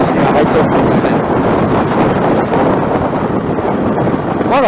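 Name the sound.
strong typhoon wind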